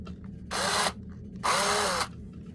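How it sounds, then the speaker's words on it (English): A power drill whirs in two bursts, the second longer, with a brief pause between them, drilling through a doll's leg; close and fairly loud against a quiet background. "Drill through."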